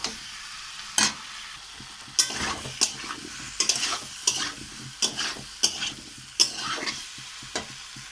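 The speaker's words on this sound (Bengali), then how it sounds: "এখানে সেদ্ধ করা ফল আলু আর আলুগুলো দিয়ে আবারও আমি ভালো করে কষিয়ে নেব" Boiled yams and potatoes are fried with spices in a pan, heard as an irregular series of loud spatula scrapes and clacks over a low frying sizzle.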